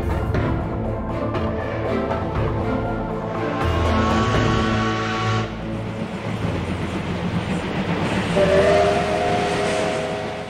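A train travels along rails in 1920, on the line from Dandong heading into Korea, giving a steady continuous rumble with a higher whine or horn-like tone near the end and no talk.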